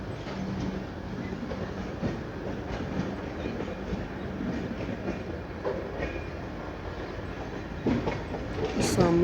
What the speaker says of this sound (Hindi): सामने से कोई ट्रेन आ रही है।